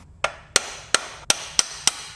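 Seven sharp metallic small-hammer taps in a steady rhythm, close and loud, each ringing briefly before the next strike, tapping a bolt out of a motorcycle swing arm.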